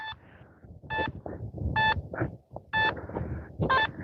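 A metal detector beeps in repeated short, high signal tones during a night coin hunt, with soft rustling and handling noise between the beeps and no talking.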